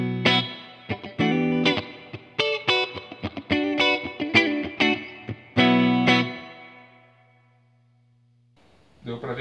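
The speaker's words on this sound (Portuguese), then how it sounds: "Pra gente ver que tem um reverbzinho rolando aqui," Electric guitar played through a Laney Ironheart 60 amp with Celestion Vintage 30 and G12T-75 speakers and reverb on, choppy distorted strummed chords that ring out into a fading tail, then resume briefly.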